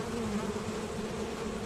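Honeybees buzz busily at the hive entrance as they bring in pollen, a close, dense, steady hum of many wings.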